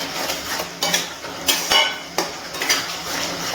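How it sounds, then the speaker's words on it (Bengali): Chicken keema masala being stirred in a pan after garam masala powder goes in, with a spoon scraping and clanking against the metal in irregular strokes over a low sizzle. "নাড়াচাড়া করে নিচ্ছি গরম মশলার গুঁড়ো দেওয়ার পর।"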